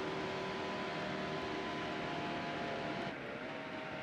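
A race car engine in a racing video game, a Cup Series stock car held at full throttle. It is a steady, dense, high-revving drone with no break, and it dips slightly near the end. No one talks.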